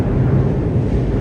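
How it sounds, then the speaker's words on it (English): Trains pass directly overhead on an elevated line in Tokyo, making a continuous low, loud roar and rumble that fills the street. "There's some trains just above us right now."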